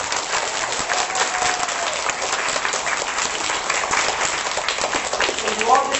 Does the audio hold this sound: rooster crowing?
no